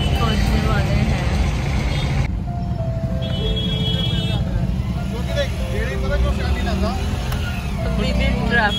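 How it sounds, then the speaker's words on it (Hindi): Heavy office-hour road traffic in Delhi Gurgaon, a constant low rumble of engines with passing vehicles and a few horn-like tones, heard close from within the traffic. "अभी भी ट्रैफिक देखो आप लोग,"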